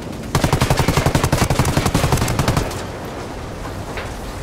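A rapid automatic burst from the video game Ghost Recon Wildlands, about two dozen loud, close shots in an even rhythm lasting over two seconds, then fading into a lingering rumble.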